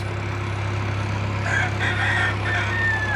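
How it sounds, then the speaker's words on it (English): A rooster crows in the distance over the steady low engine drone of a narrowboat, its call faint but clear above the constant rumble. "there's a cock-a-doodle-doo!"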